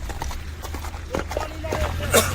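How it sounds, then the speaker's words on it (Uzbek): Horse hooves clip-clop at a steady walking pace, with voices talking over them and a low engine rumble underneath. "Ana otlar."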